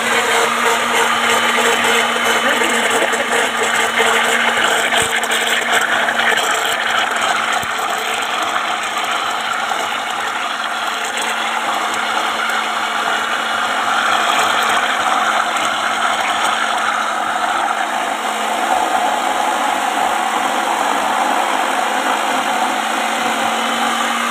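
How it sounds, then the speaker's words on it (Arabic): An electric blender runs continuously, a loud, steady motor whine with a grinding rattle that holds without pause for over twenty seconds. "استحملوا بقى صوت الخلاط لان انا ما بعرفش اكتمه"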